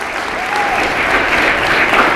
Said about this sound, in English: LaRuby May and Mary Cuthbert, a big round of applause.